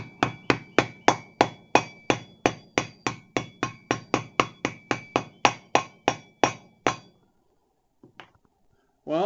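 A hammer taps chilled wheel bearings into a Kawasaki ZX6R wheel, about two dozen evenly paced, ringing metallic blows close up, then a pause and a few faint clinks before a voice starts.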